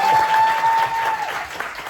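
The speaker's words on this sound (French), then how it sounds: "on applaudit très fort" Loud audience applause at a French stand-up comedy show, dense steady clapping throughout with a faint whistle-like tone, easing slightly toward the end.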